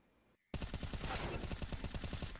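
Rapid automatic gunfire in Counter-Strike: Global Offensive during a professional match, a loud sustained burst of evenly spaced shots that cuts in suddenly after a brief quiet moment.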